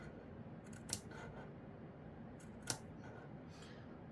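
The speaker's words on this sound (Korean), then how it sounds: "여기를 1cm 간격으로 가위밥을 좀 바싹 주세요" Scissors snip notches into the fabric seam allowance of a curved trouser seam, two sharp, distinct cuts about two seconds apart against a quiet room.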